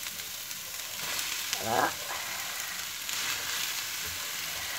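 Chopped vegetables cooking in a pan without oil, a soft steady sizzle under broad background noise, with a brief louder stir around the middle and a short spoken word.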